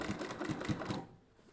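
A sewing machine stitches a cotton nighty, its needle running in a fast, even mechanical chatter close by for about a second before stopping abruptly, leaving near silence.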